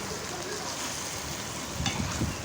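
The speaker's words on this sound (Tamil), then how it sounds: "இதே மாதிரி தான் எண்ணெயில் ஃப்ரை பண்ணிகிட்டே இருக்கணும்" Sardines fry in oil for a fish curry while being stirred, giving a soft, steady sizzle with a couple of brief scraping stirs near the end.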